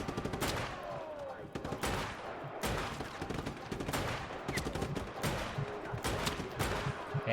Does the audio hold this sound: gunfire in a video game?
yes